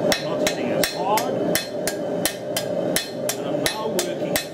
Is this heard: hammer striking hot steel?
yes